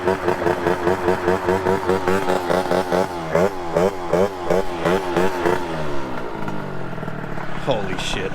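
A moped engine, tuned to exceed 65 mph, drones at high speed with a rising, pulsing buzz that climbs in pitch, loud and close with wind rumble.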